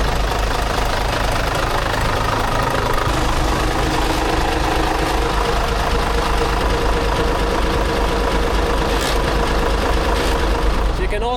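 A rock crusher's engine runs loudly and continuously with a rough, knocking mid-to-low drone, close and dominant throughout, and a steady hum underneath.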